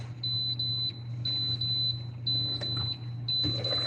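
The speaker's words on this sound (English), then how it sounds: "What's beeping?" Short electronic beeps sound in a kitchen, repeating in an uneven pattern of quick chirps over a steady low hum and faint background clatter, with no one talking.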